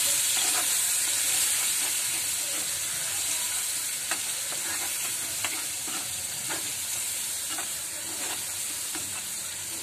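Sankeshwari chilli masala fries in hot oil with a constant close sizzle, while a spoon scrapes and stirs at irregular moments through the pan, no voices present.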